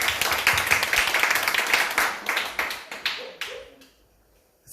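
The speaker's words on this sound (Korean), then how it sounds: "손을 한번 여기까지 들어서 박수 한번 힘있게 한번 쳐봅시다" Church congregation at a Friday night worship service clapping hands forcefully in unison: a rapid, rhythmic stream of sharp claps in quick pulses that gradually thin out and die away near the end, leaving near silence.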